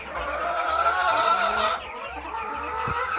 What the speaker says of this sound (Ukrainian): Курка.